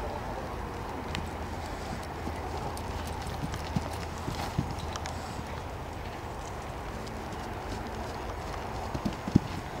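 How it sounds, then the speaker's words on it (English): Horses' hooves clip-clop on the footing of an outdoor show jumping arena during a training clinic, a faint, uneven patter of steps beneath a steady low background rumble. "Three horses at a time, please."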